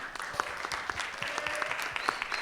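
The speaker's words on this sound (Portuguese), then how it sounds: "Uma salva de palmas para eles." An audience claps steadily at the close of a panel discussion on children's production, a moderate, even round of applause heard from close by with no voices over it.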